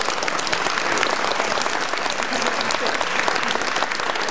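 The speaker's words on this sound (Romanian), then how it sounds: "se numește Raluca Dobre, vă rog să o aplaudați." An audience claps steadily and densely throughout at an outdoor civic-square chamber music concert, loud and continuous with no breaks, a dense crowd of hands heard together.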